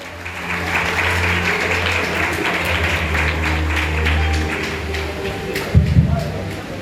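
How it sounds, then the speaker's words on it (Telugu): Steady applause from a congregation welcoming the MLA at a church Christmas celebration, a dense even patter of clapping that holds throughout with a few louder claps near the end. "చప్పట్లతో దయచేసి ఆహ్వానిస్తాం"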